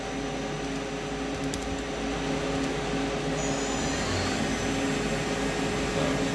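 A Doosan Puma 3100LY CNC lathe spindle runs at 1000 RPM in a machine shop, giving off a steady, even mechanical hum with a faint high whine that holds constant throughout.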